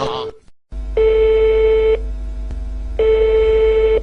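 Two long, steady telephone ring tones sound at the start of a prank call, each about a second, separated by a pause, clear and close over a low hum, after a brief burst of noise.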